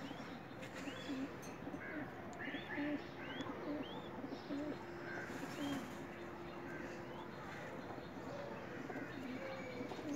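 Teddy pigeons cooing in a coop, soft repeated low coos with a few faint chirps from other birds over steady background noise, fairly quiet and spread through the clip with no speech.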